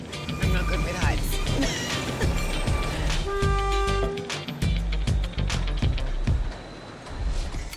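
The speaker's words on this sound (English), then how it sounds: "these days the sugar train carries visitors eager to discover the island's scenic vistas and lush ravines" The St. Kitts Scenic Railway sugar train rumbles and clatters along its track carrying visitors, with a steady horn toot partway through and a narrating voice over the rolling noise.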